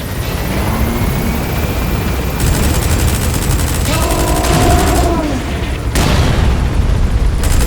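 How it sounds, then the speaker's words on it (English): In Metal Gear Solid V: The Phantom Pain, a helicopter's dense roar mixed with rapid, continuous minigun fire that surges and cuts off abruptly, loud and close, under a game soundtrack. "Use the chopper's minigun."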